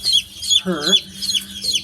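Rapid high-pitched peeping of young hen chicks on sawdust, chirping repeatedly and close by, with a brief lower clucking call partway through.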